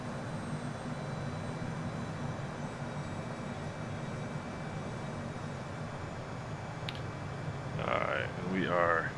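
A Phenom 100 business jet in Microsoft Flight Simulator 2020 drones steadily with a broad, even engine roar heard from the cockpit, and a voice speaks briefly near the end.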